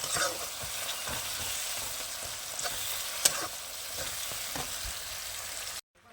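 Ground spices such as cumin stirred in a sizzling pan for a fish curry, a steady close fry with scattered spoon scrapes, ending abruptly.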